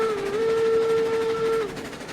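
A Mogul steam locomotive in the RailRoads Online video game sounds a long, steady whistle over a low running rumble, holding the tone for about a second and a half before it cuts off.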